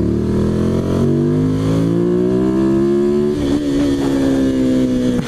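A 2005 Ducati 800 Supersport twin-cylinder motorcycle engine revs loudly up close, its pitch climbing in a smooth rise, dipping briefly, then holding a strong, throaty drone, with no talk over it.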